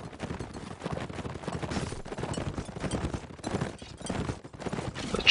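Cavalry horses galloping in a video game horse rush, rapid rattling hoofbeats in dense irregular bursts amid battle clatter, fairly loud and continuous with brief lulls.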